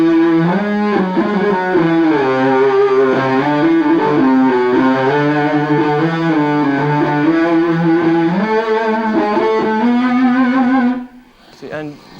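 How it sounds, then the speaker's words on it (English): An electric guitar runs through a phase pedal, holding long, unbroken cello-like notes that glide smoothly from pitch to pitch, loud and steady for about eleven seconds before cutting off abruptly. "I was using a phase pedal then, yeah, which is one of the effects which I do like to use on stage"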